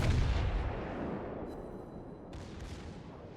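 A battleship's main guns firing shells in World of Warships, a heavy low boom at the start decaying into a long rumbling roll that fades over a few seconds, with no voices.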